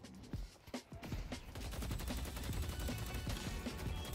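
Rapid gunfire from a Deadlock match, with dense bursts of automatic shots and sharp single cracks running continuously over game noise, close and loud without a break.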